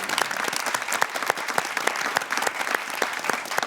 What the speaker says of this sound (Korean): 박수 한번 주실까요?